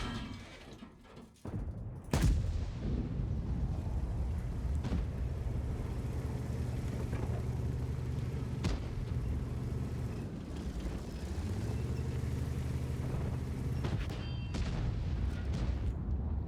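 The main gun of a Type 5 Heavy tank fires in World of Tanks. One loud, sharp blast comes early, followed by a steady low engine rumble. Fainter booms and clanks surface later on.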